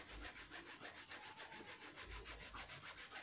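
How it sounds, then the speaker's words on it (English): Rapid back-and-forth scrubbing of the blue inner sole of a white shoe, a rhythmic brushing rasp of about four strokes per second, close and soft, with no voices. "so all you need to do is scrub it"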